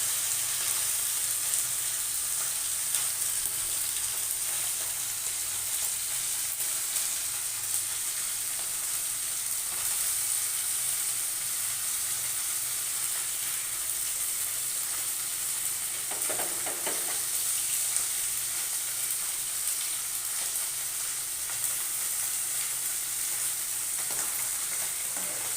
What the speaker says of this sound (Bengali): বেশি ভাজবো না, হালকা মাছের একটু ভেজে নেবে।